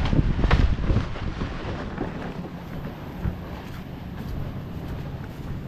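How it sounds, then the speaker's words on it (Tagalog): Strong typhoon wind buffets the microphone with a loud, rumbling roar that peaks early and then settles into a steady gusty rush, during Typhoon Bebinca in the Philippines. "Lakas ng hangin, no?"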